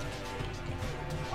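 A dog companion in the video game Far Cry 5 gives short, soft bow-wow barks and yips, faint and low in the mix under a steady game background.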